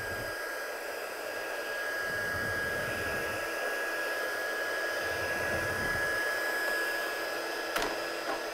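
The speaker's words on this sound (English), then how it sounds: "So I'm just going to heat set this now," A heat tool blowing over watercolour card for a handmade card, a steady loud whooshing drone with a high whine running continuously and close, with no talking.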